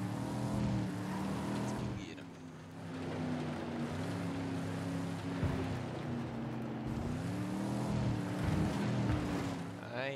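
A vehicle engine driving in the video game Ghost Recon Wildlands, a steady rumbling drone with shifting pitch as it revs, under intermittent talking voices.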